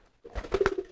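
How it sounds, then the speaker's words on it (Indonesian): A racing pigeon, a fast giring-type bird, gives a short close coo with a few low throaty pulses after a brief silence. "ini merpati tercepat saya nih, si Raja Pukul"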